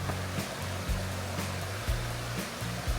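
Alum Cave Creek rushing steadily over moss-covered rocks, a dense, continuous roar of clear mountain water with no voices.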